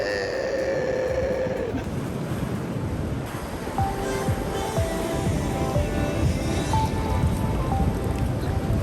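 Surf rolls and washes steadily onto a Cornwall beach on the UK south coast, a broad continuous roar of breaking waves with some wind buffeting the microphone and no talk.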